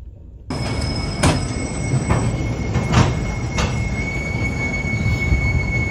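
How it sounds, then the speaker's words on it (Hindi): An Indian passenger train pulls out of a railway station, heard close by as a loud, steady rumble with sustained high wheel squeal and a few rhythmic clacks over the rails. "ये गाड़ी निकल गई है, इसके बाद अपना बारी है"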